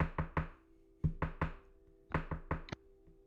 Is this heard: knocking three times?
yes